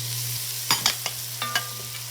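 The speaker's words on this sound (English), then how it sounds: "Now we are going to cook these down for about 5 minutes until they get nice and soft" Salted mushrooms cooking down in a pot with a steady low hum, broken by a few short clatters and scrapes of stirring.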